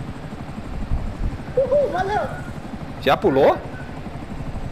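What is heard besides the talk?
helicopter flying in video game Grand Theft Auto V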